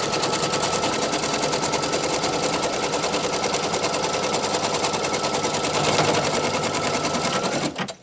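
A sewing machine running continuously while quilting a scatter-square table topper gives off a loud, rapid, rattling hammer with a strange grinding edge, unbroken for nearly eight seconds before it cuts off.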